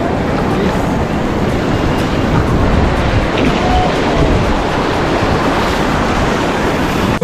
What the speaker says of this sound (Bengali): সমুদ্র পুরো উত্তাল।